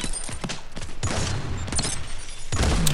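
Repeated gunfire from the Tremor weapon in the 2D shooter game Armajet, sounding as several loud bursts of shots with short gaps and a heavy final volley.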